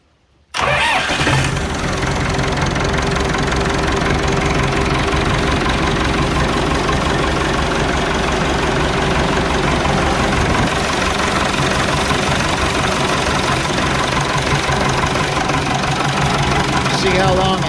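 A Massey Ferguson 180 diesel tractor engine with a leaking injection pump cranks and fires within the first second, then settles into a loud, steady, rough idle that runs on unbroken, close to the microphone.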